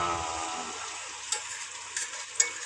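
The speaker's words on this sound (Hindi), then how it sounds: "अब हम इसमें एक एक पीस अपने फिश के डालेंगे" Fish pieces dropped into hot oil and frying, a bright steady sizzle with a few sharp clicks and taps of a utensil against the pan, close and moderately loud.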